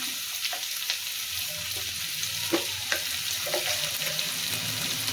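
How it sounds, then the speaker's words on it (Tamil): Onion chutney ingredients sauté in a hot pan, a steady sizzle broken by repeated scraping stirs at close range. "இந்த மாதிரி எல்லாத்தையும் சேர்த்து நல்லா கலந்து விடணும் நல்லா வதங்கட்டும்"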